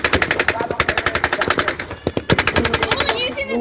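A machine gun fires at a WW2 reenactment weekend, loud rapid bursts of rattling shots with only brief pauses, close and dominating the scene.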